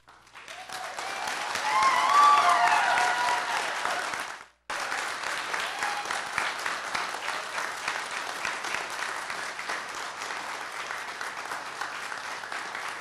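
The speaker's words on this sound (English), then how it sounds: "can I ask you to please hold your applause?" An audience at a city council meeting breaks into sustained clapping that swells, cuts off briefly, then resumes as steady applause continuing throughout.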